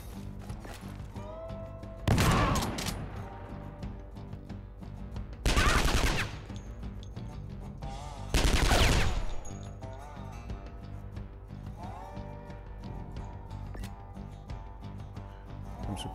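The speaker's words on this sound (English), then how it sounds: "So move up here and shoot him with the shotgun." Three loud, broad blasts of shotgun fire in the video game Skyshine's Bedlam, evenly spaced over a mechanical, creaky game soundscape with no voices.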